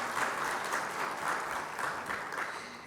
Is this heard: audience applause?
yes